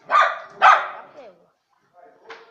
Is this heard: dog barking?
yes